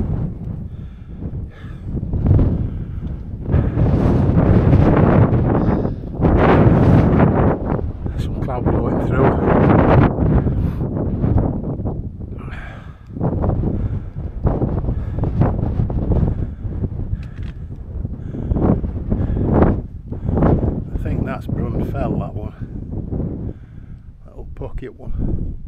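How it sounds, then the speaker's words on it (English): Strong wind on an open fell top in Borrowdale buffets the microphone in loud rumbling gusts that rise and fall throughout, with a person talking over it. "Sorry if it blows a bit, it's wind's picked up a bit here."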